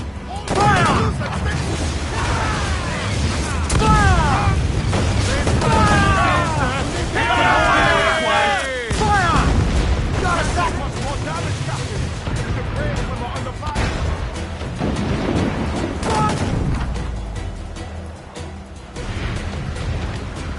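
Ship cannon fire and booming artillery in the pirate game Assassin's Creed IV Black Flag, a dense barrage of repeated blasts under shouting voices and crew babble throughout.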